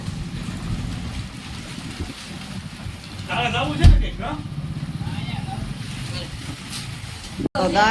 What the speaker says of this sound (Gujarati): અહીંયા વાવાઝોડાની શરૂઆત થઈ ગઈ છે